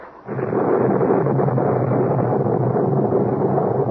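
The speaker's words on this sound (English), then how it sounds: "And the storm looks to be coming back." Thunderstorm sound effect in a radio drama: a loud, continuous roar of rain and rumbling thunder swells in quickly and holds steady, alone with no voices.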